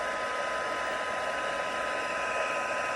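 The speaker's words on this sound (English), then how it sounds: "When you're using a heat tool, you want to be careful to keep your fingers away because it is very hot." A heat embossing tool blows hot air in a steady, even whoosh with a constant whine, unbroken from start to finish and heard alone at close range.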